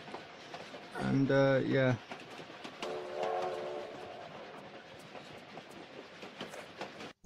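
In a Tomb Raider level, a train gives a loud, sustained horn blast lasting about a second, then rumbles on quietly with faint rattling while a voice speaks over it.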